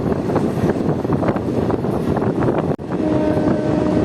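An inaugural special train on the reopened Amghata line to Krishnanagar rumbles along with steady wheel noise and wind buffeting close to the microphone, briefly broken by a sharp dropout.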